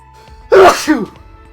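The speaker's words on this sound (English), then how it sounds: "it's just the one sneeze" A single loud sneeze, sharp and close, with a short intake before it and silence after, from the video game Danganronpa V3: Killing Harmony.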